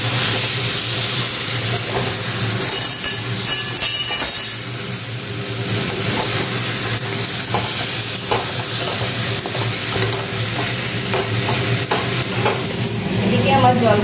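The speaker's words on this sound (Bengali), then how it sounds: "গরম মশলা দিয়ে আমি আবার একটু কষিয়ে নেব।" Curry sautés with garam masala in a pan, a loud continuous sizzle with steady scraping stirs and occasional clinks throughout, no voices.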